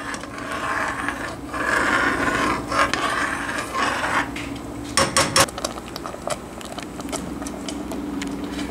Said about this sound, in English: I'm going to give it a quick stir, a slow one